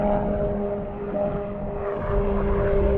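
A canard-winged propeller aircraft, a Long-EZ, drones overhead with a steady low engine hum and tonal propeller whine, swelling slightly louder toward the end while passing over a fishing spot.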